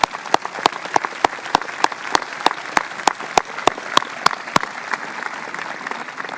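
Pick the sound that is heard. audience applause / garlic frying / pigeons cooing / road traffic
audience applause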